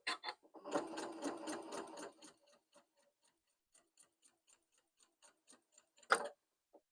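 Sewing machine stitching the side seam of a shirt, a close rapid whir for about two seconds, then slow single ticks of the needle and a brief louder knock near the end.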